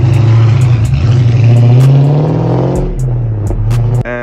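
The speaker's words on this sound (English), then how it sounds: "he really likes the sound of the V8 engine" A Ford Mustang muscle car's V8 engine revs loudly and up close, with a deep throbbing idle climbing into throaty revs, then dropping back to a rumbling idle.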